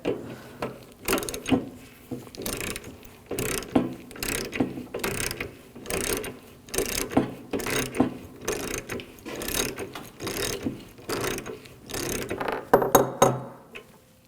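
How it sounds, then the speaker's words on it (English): A ratchet with a 19mm socket backs out a radiator plug on a 2007-2013 BMW 328i 3.0L inline-six, giving bursts of rapid, close clicking strokes in a steady rhythm, alone with no talk. "And then we'll take this plug off. Same 19mm socket."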